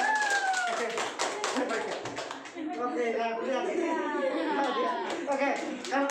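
Scattered clapping from a small group during a classroom role-play session, light hand claps mixed with children's voices, chatter and a chuckle running over them.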